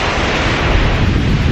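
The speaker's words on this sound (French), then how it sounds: "on est au bord de la mer, il y a un peu de vent" Wind and surf at the seaside on Chowpatty Beach in Mumbai, a loud, steady broadband roar with heavy wind buffeting the microphone and no voices.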